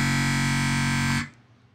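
Native Instruments Massive bass patch layered with a sub bass patch, a loud, dense, distorted synth drone with heavy low end that holds steady for over a second, then cuts off abruptly into near silence.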